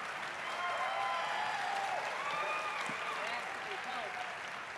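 Applause and cheering from a convention main-stage crowd, a steady dense wash of clapping with voices and whistles mixed in, loud and sustained throughout.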